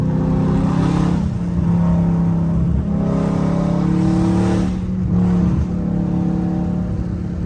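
A catless Dodge Scat Pack engine on the road, loud and close, with a deep steady rumble and repeated surges of revving as it accelerates; no talking over it.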